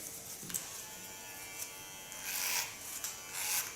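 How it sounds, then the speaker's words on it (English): A Keone electric hair clipper buzzes steadily as it shaves the nape of the neck. The buzz is close and continuous and swells louder in the last couple of seconds as the blade works through the hair. "Gonna work with the latest Keone clipper"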